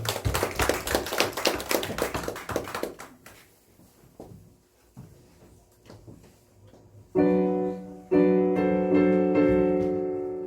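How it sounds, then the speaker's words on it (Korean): A church congregation at a Sunday worship service claps together loudly and densely for about three seconds, then the applause thins out into scattered sounds before sustained musical tones come in. "박수 한번 크게 해주시고"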